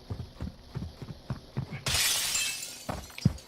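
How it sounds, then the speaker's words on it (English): Glass shatters in a shooter video game, a sudden bright crash that rings out for a moment over a run of steady thudding footsteps, loud and close. "I'm breaking glass."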